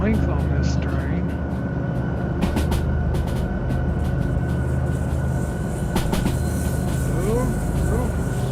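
In the DV Sim train simulator game, a train rolls along the rails with a continuous heavy rumble, scattered metallic clanks and faint squealing from the track.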